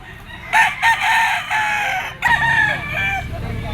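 A bull stag gamefowl, an SBR with yellow legs and black spurs, crows close and loud at a market, with one crow and then a second rising call over a busy background murmur.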